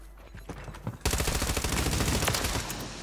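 Gunfire in the Warzone video game: a few scattered shots, then a dense, sustained burst of rapid automatic fire that stays loud to the end.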